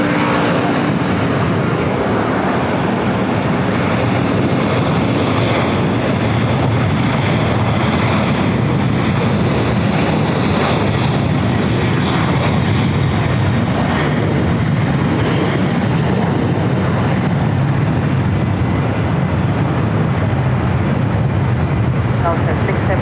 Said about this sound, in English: takeoff is that Japan Airlines Dreamliner